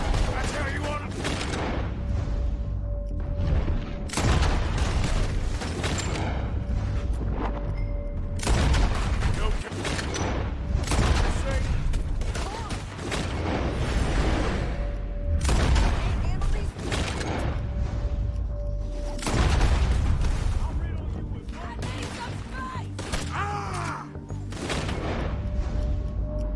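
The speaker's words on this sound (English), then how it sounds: "Told you I could shoot a gun, didn't I?" Gunshots in the video game Red Dead Redemption 2, repeated heavy booming shots and rolling fusillades spread over a long stretch, with game-character voices and sound effects between them.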